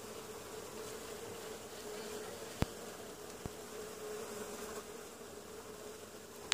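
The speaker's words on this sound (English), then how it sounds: "The bees seem to be taken to this area fairly quickly." Honeybees freshly installed from a cutout into an observation hive give off a steady, close, continuous buzzing hum throughout, with a couple of sharp clicks or taps partway through and no talking.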